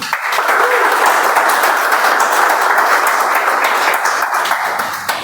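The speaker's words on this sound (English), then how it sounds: "A huge round of applause, please." A Toastmasters meeting audience in Bangalore breaks into a sustained round of applause, many hands clapping steadily and loudly at close range with no talk over it.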